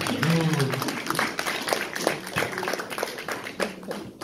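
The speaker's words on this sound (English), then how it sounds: "let's give Chief Tiger a big round of applause" An indoor audience at an urban intertribal gathering claps for several seconds, a dense patter of hands mixed with voices talking over it.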